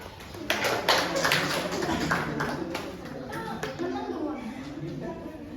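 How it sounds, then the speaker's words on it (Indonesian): A group claps in a classroom during a Balinese language lesson, a short burst of uneven claps at the start that fades under ongoing talking and children's voices. "Oke, tepuk tangan dulu."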